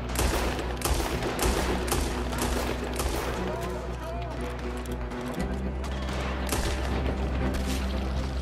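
Gunfire in the open-world western game Red Dead Redemption 2, with dense volleys of shots and booms crackling throughout over a steady rumble, loud and continuous, with a voice speaking at times.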